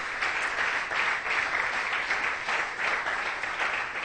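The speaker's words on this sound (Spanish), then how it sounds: "¿Cuántos aplauden a Dios en esta mañana, hermosa iglesia?" A church congregation applauds during a Sunday-morning Spanish-language sermon, a steady, dense wash of clapping that holds at the same level from start to finish with no voices over it.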